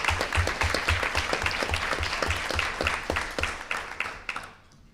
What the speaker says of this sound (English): You can clap after each name,